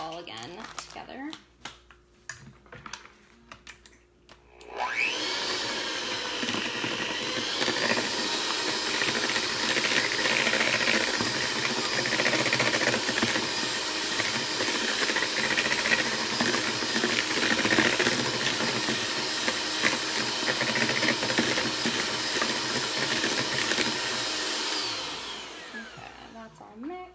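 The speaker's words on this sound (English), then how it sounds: "I'm gonna blend that all again together." A blender runs loud and steady for about twenty seconds, mixing keto cookie dough ingredients with Swerve sweetener, starting abruptly after a few quiet moments and winding down at the end.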